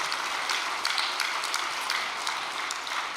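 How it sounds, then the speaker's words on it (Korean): A congregation at a special all-night devotional gathering gives warm applause, a steady, close crackle of many hands with a few sharper individual claps standing out, continuing without a break. "이 엄마를 위해서 여러분들의 따뜻한 박수 부탁드립니다"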